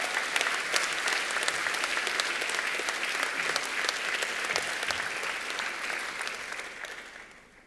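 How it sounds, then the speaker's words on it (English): Sustained applause from a business awards audience, dense steady clapping that carries loudly for several seconds before tapering off toward the end. "can you guys give them a round of applause?"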